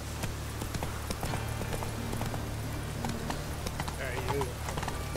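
Horse hooves clip-clopping in a steady galloping rhythm in The Witcher 3, continuous and fairly close under a constant low ambient drone, with a brief voice near the end.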